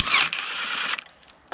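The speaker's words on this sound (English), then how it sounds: "For a 3/18 ratchet." A 3/8 ratchet working a 5/16 bolt on a 1969 Plymouth Fury 400 big block, giving a quick close mechanical whirr of clicks for about a second, then a faint tick and one more short burst.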